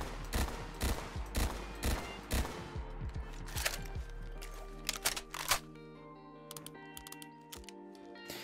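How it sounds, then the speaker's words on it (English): Rapid burst fire from an HK G11 rifle in a modded video game, sharp clustered shots cracking in quick succession, with several tight bursts in the first half and sparser clicks and reports afterward. "those were some really quick burst shots, something that the G11 was actually known for"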